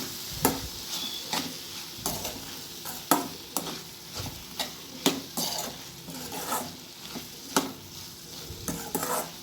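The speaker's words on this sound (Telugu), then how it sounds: "సో ఇదంతా బాగా కలిపేసుకున్నాం" A spoon scrapes and stirs bottle gourd curry in a pan, sharp clinking scrapes coming in a steady rhythm over a soft background sizzle, close and clear with no talking.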